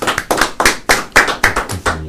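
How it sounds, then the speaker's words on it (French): Clapping at a radio show, about eight loud, evenly spaced claps in a slow rhythm, close to the microphone, with no other sound between them. "Allez, il faut applaudir."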